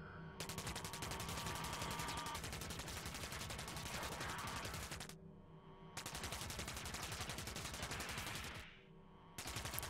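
Rapid automatic gunfire from shooting enemies in the PC game THOTH, loud dense bursts in two long volleys with a brief pause between, continuous and alone.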